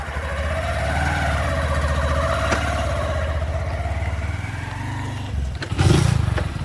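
A motorcycle carrying two riders gives a continuous droning engine note whose pitch drifts up and down as it moves along. A louder burst of noise comes near the end.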